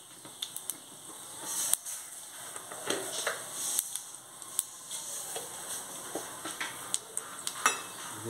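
Cumin and mustard seeds sizzle in hot ghee for a tempering, a soft continuous crackle broken by sharp ticks and pops and the clink of a stirring spoon against the pan.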